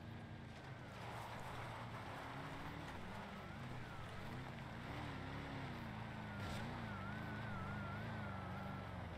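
Car engine running steadily in a video game with a convertible car, the engine note rising and falling with revs and sustained close and loud throughout, with a bit of wind-like noise behind it.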